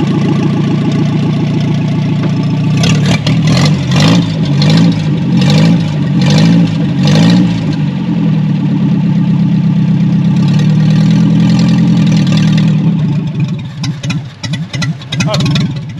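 Hand-built custom Nash Metropolitan barn find, run and driven for the first time in 36 years, its engine loud and close: a rough, pulsing idle broken by repeated revs, then uneven sputtering as it moves.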